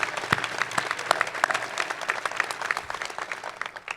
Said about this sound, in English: So give them a round of applause if you don't mind.